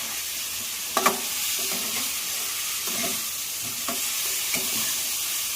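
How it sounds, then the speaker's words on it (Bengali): Potatoes for Bengali-style egg biryani stir-fried in a hot pan, a steady loud sizzle with a few sharp clacks of the spatula as they are tossed, no voices. "আলুগুলোকে ভালো করে কষিয়ে নিতে হবে।"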